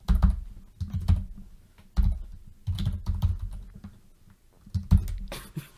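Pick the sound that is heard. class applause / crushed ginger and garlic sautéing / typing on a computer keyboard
typing on a computer keyboard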